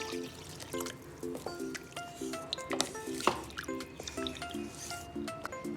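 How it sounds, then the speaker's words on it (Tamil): Water pours and drips into a pot of goat intestine soup in an uneven, splashing stream, fairly quiet, with a steady background tone underneath. "இப்போ இது முங்குற அளவுக்கு தண்ணி விட்டுருங்க."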